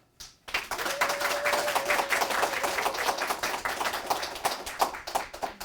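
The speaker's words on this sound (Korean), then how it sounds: "축제 발대식을 축하하는 박수 부탁합니다" Audience applause at the launch ceremony of an Earth Family life-saving culture festival: a dense, steady burst of many hands clapping that starts abruptly and holds loud for about five seconds, with a faint thin tone drifting underneath.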